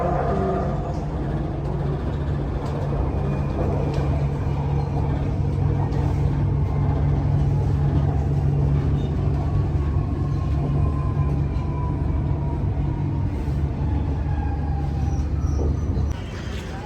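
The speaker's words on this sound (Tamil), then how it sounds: "இது வந்து நம்மளோட செகண்ட் டிரான்ஸ்போர்ட் மெட்ரோ." Steady rumble and hum from inside a moving metro train, continuous and even throughout, with faint rattles over the droning noise.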